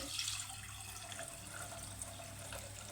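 Water runs steadily for a few seconds into a pot of soaked rice, a continuous broadband splashing stream with no pauses.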